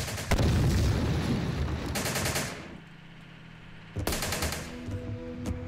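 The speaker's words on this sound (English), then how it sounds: "Right, where's all the shooting going on?" Gunfire in Syrian Warfare: Return to Palmyra: loud, dense bursts of rapid shooting, a brief lull, then another heavy volley of shots, with no talk.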